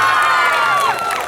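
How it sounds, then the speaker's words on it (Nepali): A large concert crowd in Nepalgunj cheers and shouts loudly in one dense burst, with whistles and whoops rising above the roar. "एकचोटि हाम्रो पशुपतिनाथले सुन्ने गरेर ताली बजाइदिनुहोस् न"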